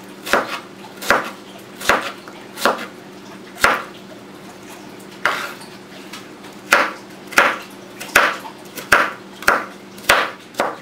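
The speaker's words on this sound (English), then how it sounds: "we'll need to chop up just a little bit of onion" A knife chopping onion on a cutting board, about seventeen crisp, sharp strikes with brief pauses that speed into a steady rhythm toward the end, close and clear over a low background hum.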